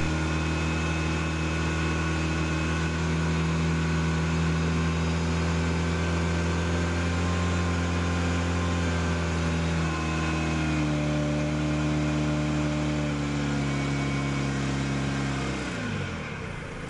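A car engine idles steadily with an exhaust flow meter attached to the tailpipe, a close, even drone with a slight dip in pitch midway before it winds down near the end.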